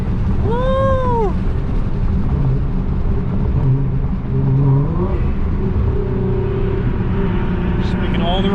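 A Nissan R35 GT-R in race transmission mode drones loud and close, with a steady low engine note throughout and a rising, swooping whine near the start, while a voice calls out over it.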